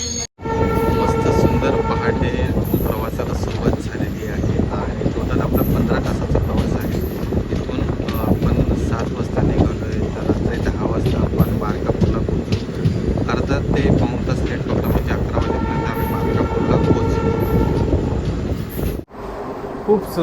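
Passenger train 18048 from Madgaon to Markapur on the Konkan Railway, rolling through forest in the morning: a loud, steady rumble of wheels and rushing air fills the whole stretch without a break.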